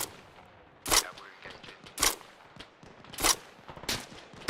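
Gunfire in Arma: Reforger during a mountain assault, with sharp bursts of shots spaced about a second apart that stand out loud over a quieter rustling background, plus a few fainter shots between.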